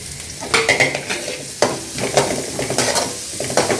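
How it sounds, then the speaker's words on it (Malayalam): Grated carrot stirred in a frying pan, sizzling steadily while a spoon scrapes and turns it in irregular close bursts, no voices. "ഈ ഒരു സമയത്ത് ക്യാരറ്റ് ഗ്രേറ്റ് ചെയ്ത് ചേർക്കാം"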